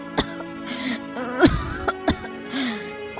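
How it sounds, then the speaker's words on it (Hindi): Several short, harsh coughs and throat-clearing bursts from a Hindi cartoon, close and fairly loud, scattered across a few seconds with a brief voiced sound between them. "ये कैसी खांसी है?"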